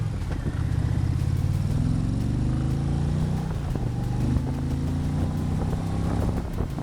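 An Indian Challenger Dark Horse cruiser motorcycle speeds up through its gears, the engine note rising steadily, dipping at shifts, then climbing again. The drone is loud, close and constant, with no talk.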